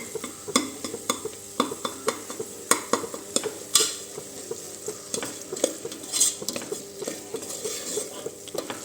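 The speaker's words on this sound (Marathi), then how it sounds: "चला तर ही भाजीमध्ये आपण छान सगळा मसाला एकजीव करून घेऊया" A spoon stirs masala into mixed vegetables for a traditional Makar Sankranti bhaji, scraping the pan in steady rhythmic strokes over a light sizzle with occasional metallic clinks.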